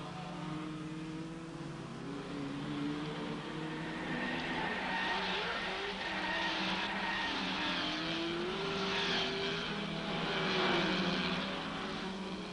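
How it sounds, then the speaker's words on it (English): Big GT race cars, Shelby Cobras and Ferraris, roar past at the Rouen circuit during the 1964 Tour de France Auto, with a continuous blend of engine drone and faint tyre squeal heard from a distance. "The big GTs make a splendid spectacle at Rouen."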